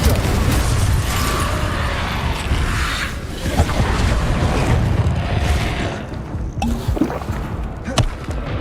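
Confringo explosive spell cast in the Hogwarts Legacy video game, a dense rumbling blast with crackling debris that roars for several seconds and then breaks into a few sharp pops and snaps.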